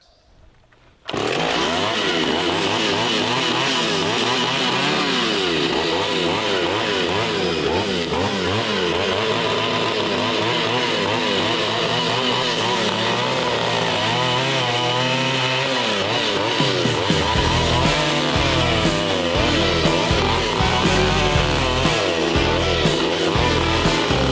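A vintage Pioneer P26 chainsaw engine starts abruptly and runs loud and close, holding a steady buzzing drone that wavers in pitch and turns rougher and more sputtering near the end, with no voices.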